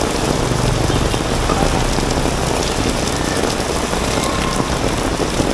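Heavy rain pours down steadily in Nha Trang, Vietnam, in a dense, loud hiss that never lets up, with a faint engine drone beneath it.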